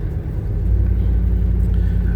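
A 1988 Chevy OBS truck engine running while driving, a loud, steady low rumble of road and engine noise filling the cab with little change in pitch.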